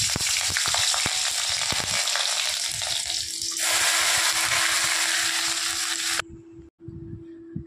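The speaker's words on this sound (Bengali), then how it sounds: "আর এদিকে দেখো, ঢ্যাঁড়স ভাজা বসিয়ে দিয়েছি।" Okra fries in a pan on a home kitchen stove with a loud, steady sizzle and some stirring clatter before the sound drops away near the end, leaving a faint hum.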